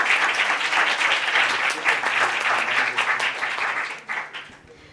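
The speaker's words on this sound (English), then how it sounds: "Round of applause for them," A roomful of attendees at the EMA General Assembly clap in a sustained, close round of applause that thins out near the end into a few scattered claps.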